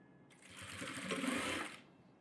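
A sewing machine runs a short continuous burst of stitching on a net model blouse, a steady close whir that starts abruptly and stops after about a second and a half.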